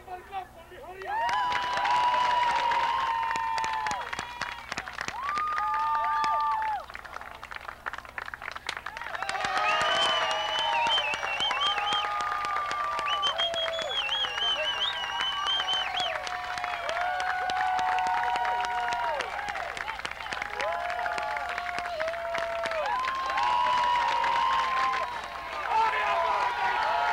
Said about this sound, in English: Everybody clap for me.